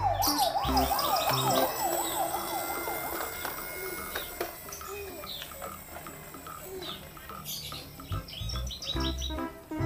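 A green toy police car plays an electronic wailing siren, a rapid rising-and-falling warble in the first seconds, followed by chirpy electronic beeps and tones from the toy, fairly faint and close.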